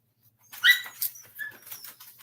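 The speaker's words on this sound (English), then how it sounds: "Oh, these dogs get on my nerve." Several dogs whimper and give short yelps and barks indoors, a cluster of close, sharp cries that fades into softer whines, with no one speaking.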